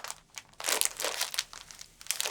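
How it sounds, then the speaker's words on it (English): Crinkly plastic packaging rustles and crackles in short, close bursts as a snack bag is pulled open, with no talking. "As soon as you're ready, open this bag and give it a smell first."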